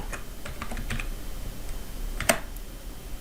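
Fingers type a name on a computer keyboard while working in an Excel spreadsheet, giving a quick run of soft, close key clicks with one sharper tap near the end.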